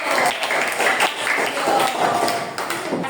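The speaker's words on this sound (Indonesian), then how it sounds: "tepuk tangan untuk Bio" Classroom applause for a student in a math lesson: a steady, dense patter of many hands clapping that fills the whole stretch, with voices talking over it.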